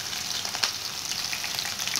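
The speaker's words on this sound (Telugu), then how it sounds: "ఫస్ట్ ఆయిల్ వేయించుకున్నాను, అందులో ఆనియన్స్, రెండు ఆనియన్స్ వేసాను," Two large chopped onions fry in hot oil in a pan for chicken gravy masala, giving a steady, close hissing sizzle with faint stirring crackles throughout, no speech.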